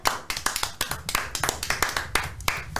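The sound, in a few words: clapping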